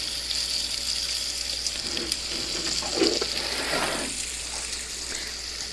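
Tap water runs steadily into a sink while raw pork chops are rinsed, a soft continuous splash with a few brief surges, fairly quiet and without talk.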